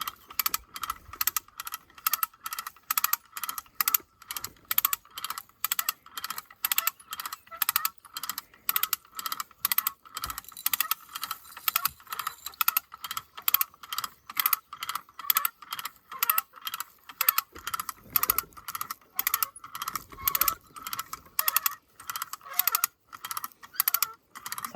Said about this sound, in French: Philippe, il a le treuil et on va voir ce que ça donne.